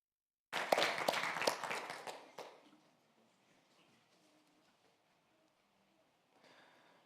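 Short round of audience applause at a university Three Minute Thesis competition final, a burst of many hands clapping that fades out after about two seconds, then near silence with a faint stir at the end.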